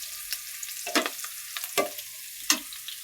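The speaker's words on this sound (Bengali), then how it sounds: "আর এই জায়গায় মাছ তেলে ভাজি করতেছি" Fish frying in hot oil gives a steady close sizzle, broken by a few sharp clatters and scrapes from stirring, with no talking.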